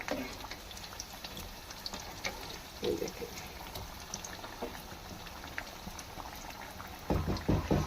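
Qeema kachori fries in hot oil in a pan, giving a steady bubbling sizzle throughout with occasional louder crackles and spatters as it is flipped to cook both sides.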